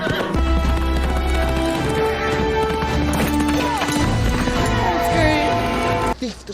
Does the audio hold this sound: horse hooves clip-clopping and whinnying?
yes